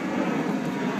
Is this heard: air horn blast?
no